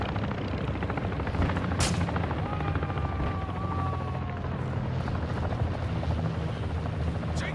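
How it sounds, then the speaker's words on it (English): Aircraft in a Call of Duty game, a VTOL flying overhead with a steady, loud rotor-like roar that persists throughout amid game ambience and scattered distant gunfire. "Friendly VTOL entering the airspace."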